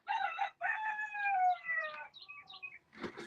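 A rooster in a video game chicken coop crows loudly and alone with a long drawn-out cock-a-doodle-doo, followed by a few short clucks and a brief rustle at the end.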